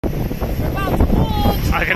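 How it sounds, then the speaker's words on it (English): Steady wind buffets the microphone with a low rumble throughout, while people talk over it. "it's so windy"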